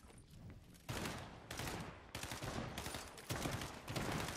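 Loud bursts of automatic gunfire in the Fortnite video game come in several sustained volleys, each a dense rattle of close shots separated by brief gaps.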